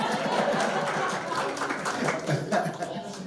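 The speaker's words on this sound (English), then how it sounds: "Let's keep that round of applause going, ladies and gentlemen" Comedy show audience applauding and chuckling between acts, a dense continuous wash of clapping with a host talking over it.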